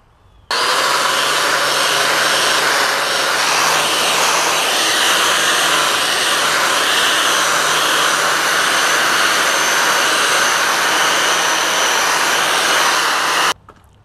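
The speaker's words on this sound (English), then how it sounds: "I'm very pleased in how this is turning out using the angle grinder." An angle grinder resurfacing an old iron railing before repainting, a loud continuous high whine and grinding hiss that starts abruptly, runs steadily for about thirteen seconds, then cuts off.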